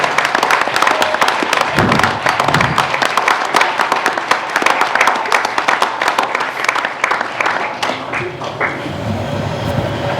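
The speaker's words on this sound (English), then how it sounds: "So if we could get one more round of applause for Lillian Morris" Sustained round of applause from an audience at a Hot Springs, South Dakota city meeting, loud, dense clapping filling the room for the whole stretch before tapering slightly.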